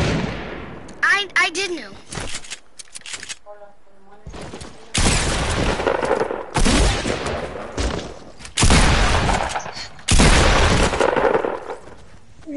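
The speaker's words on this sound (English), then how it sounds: "he actually shot through my wall" Loud bursts of video game gunfire shooting through a wall, several dense rapid volleys separated by brief pauses, with a player talking between them.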